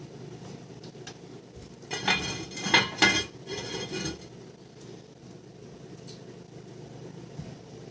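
A pot of chili slid aside on a stovetop and covered with its lid, giving a short cluster of metallic scrapes and clinks of moderate loudness over a quiet kitchen background.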